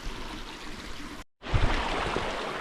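Water runs steadily along a stream beside a woodland trail on the Mullerthal Trail, a close, continuous broadband rush that drops out briefly mid-clip before returning louder.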